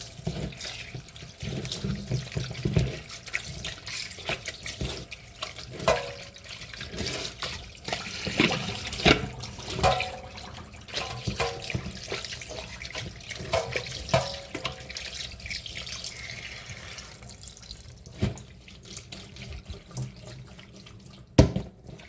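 Tap water runs steadily into a sink while raw beef is rinsed, with splashing and small knocks of handling throughout, fairly quiet and close.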